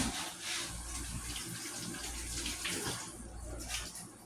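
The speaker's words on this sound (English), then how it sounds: "So let me wash them right quick." Fresh okra pods rinsed under a running kitchen tap, a steady close hiss of flowing water with slight splashing changes as the pods are moved about, no talking.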